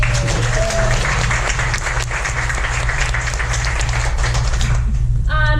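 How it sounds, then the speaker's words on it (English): Loud, sustained applause from an audience at an event, dense steady clapping filling the room for several seconds with a low hum underneath. "So we can give them a big round of applause."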